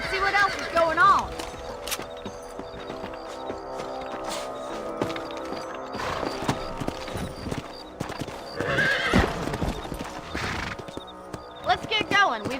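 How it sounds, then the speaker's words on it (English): Horse hooves clip-clop steadily in the Western video game Red Dead Redemption, with whinnies and neighs rising at intervals over a continuous background bed; a voice talks in places. "Let's get back on the horses and see what else is going on."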